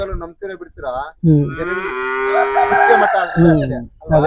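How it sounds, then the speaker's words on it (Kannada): Cattle and calves on a farm, including Jersey and HF breeds, give loud close moos, one long drawn-out low call dominating the middle, with shorter bellows and brief voices around it. "ಹಾ ಕರುಗಳು"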